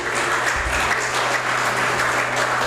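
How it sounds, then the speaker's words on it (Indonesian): Audience applause at a morning coffee event for barista trainees, a dense, steady burst of clapping throughout, fairly close and loud. "Kita berikan aplaus buat Pak Muhammad Ali Ridho."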